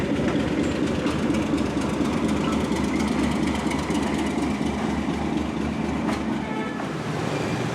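A train rumbles past close by on tracks in Hanoi, Vietnam, with a continuous loud roar and rhythmic clatter of wheels on rails, steady for several seconds.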